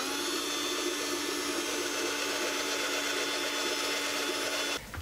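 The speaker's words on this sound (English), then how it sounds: "Okay, so I'm going to start off with the drill." An electric drill whines continuously at high speed as it bores a starter hole into wood for a jigsaw blade, steady and close, before cutting off abruptly near the end.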